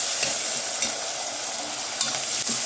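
Chopped tomatoes and onions softening in a pan over medium flame for a curry: a steady close sizzle with several short scraping stirs of a spoon, and no talking.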